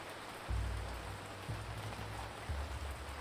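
Rain intensifying in the ancient city-building game Ancient Cities: a dense, continuous downpour hiss with three low surging swells roughly a second apart, no voices.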